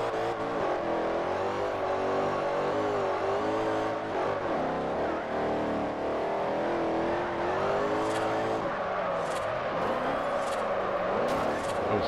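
A convertible car in a drifting video game revs and drives continuously, its engine droning and rising in pitch with tire squeal near the end, loud and close, with speech mixed in.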